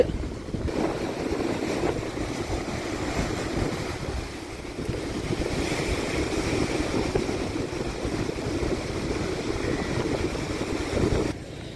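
Strong wind buffets the microphone over steady crashing surf on the beach at Valvettithurai, Jaffna, a continuous loud rush with no voices, moored boats nearby.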